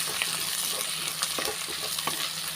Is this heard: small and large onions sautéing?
yes